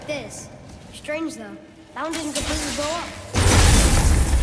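Explosion in the God of War video game: a loud, broad burst erupting midway through and rumbling on to the end, with voices talking over the first part.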